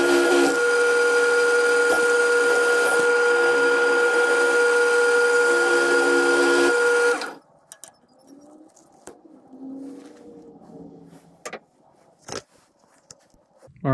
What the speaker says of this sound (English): we're gonna go ahead and part it off the lathe